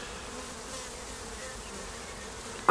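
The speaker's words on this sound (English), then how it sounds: "I'm just going to drop the bees in the top." A honey bee swarm being dropped into a hive, a dense, continuous buzzing hum at moderate distance, steady throughout with no voices.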